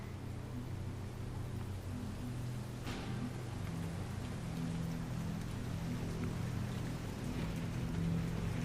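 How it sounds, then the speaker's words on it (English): Rain falling steadily at night under low storm clouds, a faint, continuous hiss of drops with a soft low rumble beneath, even and unbroken throughout. "As you and Mark step outside, Karina, it is raining, it is dark, and there are stewing storm clouds lingering low overhead"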